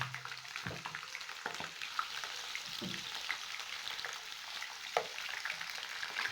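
Chopped onion frying in hot oil for white beans and yam, a soft continuous sizzle with a few spoon knocks and scrapes against the pot.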